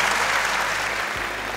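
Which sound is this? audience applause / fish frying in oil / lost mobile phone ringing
audience applause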